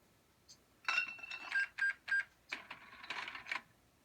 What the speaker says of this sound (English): just like cash register and some bottles clicking